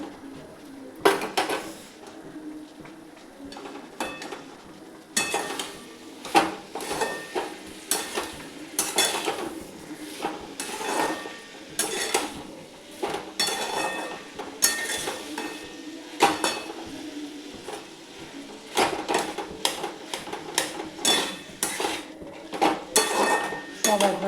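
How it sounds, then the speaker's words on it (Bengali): A cooking pot of pumpkin curry is uncovered while metal utensils clink and scrape against it in repeated close bursts over a soft simmering sizzle, with a few quiet voices. "এখন ঢাকাটা আবার খুললাম"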